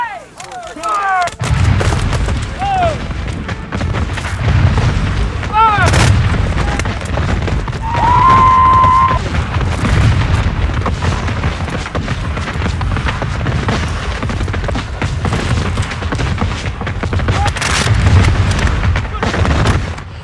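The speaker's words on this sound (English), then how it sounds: "An artillery duel suddenly erupted between the two sides." Civil War artillery duel at Antietam, with loud booming cannon blasts and crackling gunfire filling a battle scene, a sustained dense roar with a brief high whistle midway and voices faintly under the din.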